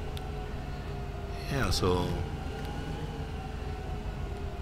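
A train passes in Farming Simulator 15, a rising, sweeping whistle-like tone over a steady mechanical hum, swelling briefly mid-clip and fading, with someone talking over it.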